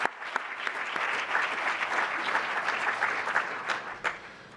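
Steady audience applause fills a room at an awards ceremony, dense and continuous clapping from a crowd with a few sharper claps standing out, sustained throughout.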